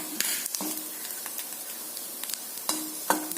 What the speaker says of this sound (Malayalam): കൊഴുവ മൂത്ത് പൊട്ടുന്ന സൗണ്ട് എടുക്കാം